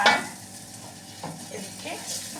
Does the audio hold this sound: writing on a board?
no